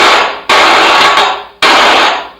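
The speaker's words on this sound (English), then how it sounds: "it just makes the snare drum sound bigger for the fat backbeat" Electronic sound from a drum trigger device fired by a snare drum microphone, three loud, close, noisy bursts, each with a long decaying burst of noise, heard alone without talk.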